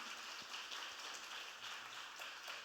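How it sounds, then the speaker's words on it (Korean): Church congregation gives soft, continuous applause during a Sunday service to welcome a newcomer, faint and even, sounding somewhat distant. "큰 박수로 환영하도록 하겠습니다"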